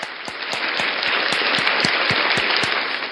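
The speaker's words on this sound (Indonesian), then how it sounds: "Berikan tepuk tangan bagi Tuhan." Applause at a Sunday school gathering, a dense wash of many hands clapping at steady loudness, with sharp individual claps standing out at a regular rhythm, and no talk over it.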